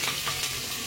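Onions fry in a pan with a dense, continuous sizzle and faint stirring rustles, close and steady through a brief moment, no talk.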